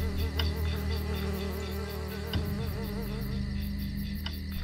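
Swarming insects buzz steadily and loudly throughout, a dense droning whine with no talk over it, like a cloud of bugs hovering close by.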